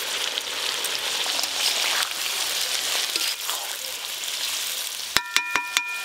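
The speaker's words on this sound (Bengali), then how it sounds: "বিনস আর গাজর একসাথে ভেজে নেবো।" Beans and carrots fry together in a pan with a loud, continuous close sizzle, then a few sharp metallic clinks from a utensil striking the pan at the end.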